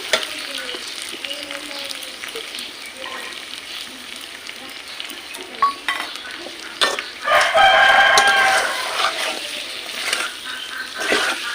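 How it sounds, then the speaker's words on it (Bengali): Mutton frying with poppy seed paste in a pan, a close, busy sizzle with scraping stirs, building to a louder frying burst near the middle before settling; a rooster crows in the background. "আমি আর একটু ভালো করে কষে নেব"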